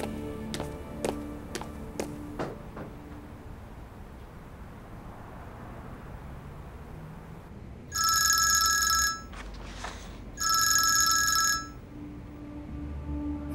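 An electronic telephone bell rings in two long bursts of roughly a second each, separated by a short pause, fairly loud against a quiet indoor background, with a few faint clicks earlier.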